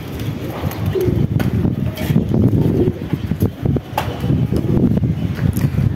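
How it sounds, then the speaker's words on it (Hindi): Pigeons coo in low, throaty bursts nearby, mixed with flapping and scattered knocks against a windy background. "ये देखो कबूतर कोई आया है"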